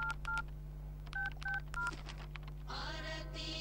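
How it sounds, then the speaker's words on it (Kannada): A telephone number is dialed as a quick series of keypad tones in short clusters, followed by a steadier electronic tone, all over a constant low hum in a tense police investigation scene. "ನೀವೇ ಒಂದ್ಸಲ ಫೋನ್ ಮಾಡಿ ನೋಡಿ."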